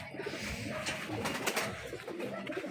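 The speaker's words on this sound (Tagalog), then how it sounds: "Kaya kalapati muna ang ating iba-vlog." Pigeons coo softly and repeatedly against a steady background hiss, with no talking.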